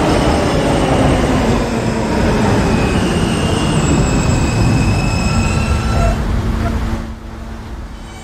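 R160A subway train running in the Roblox video game, a loud continuous rumble of wheels with faint squealing tones that eases off near the end.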